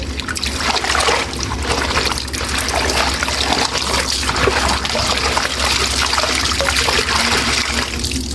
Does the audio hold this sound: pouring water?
yes